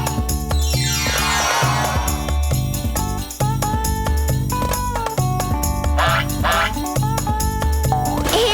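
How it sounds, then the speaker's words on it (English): A cartoon baby duck toy quacks in a busy children's animation, its bright calls mixed with a steady bouncy music track, jingling chimes and rising sparkle effects, with no voices heard. "It's a baby duck."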